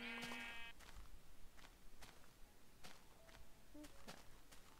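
A sheep in the Minecraft video game gives a short bleat or two at low level, set against steady game ambience, with a few soft tapping steps scattered through it.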